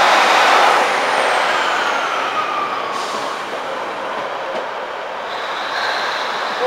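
A Class 156 diesel multiple unit, 156401, moves through Lincoln Central station with a loud engine and rail rumble that eases slightly, broken by brief hissing air bursts.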